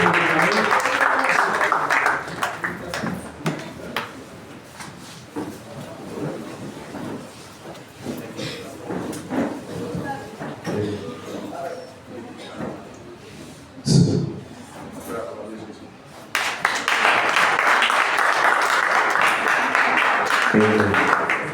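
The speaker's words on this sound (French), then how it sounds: "You can put your hands together for the Lord." Congregation applauding at a church crusade meeting, with bursts of loud crowd clapping at the start and again near the end, and a speaker's voice in between.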